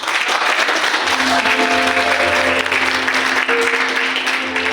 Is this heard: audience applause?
yes